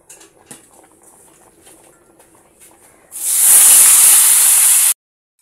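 Chicken meat fries in hot oil: faint scattered crackles at first, then a loud, steady roaring hiss that lasts about two seconds and stops abruptly.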